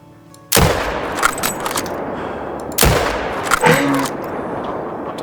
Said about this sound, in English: This is the 375, and this time we're shooting from 200 meters.